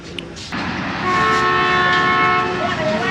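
The Awam Express passenger train sounds a loud, sustained horn blast as it starts moving out of Burhan railway station near Peshawar, rising in over the rumble of the train and holding steady for a couple of seconds.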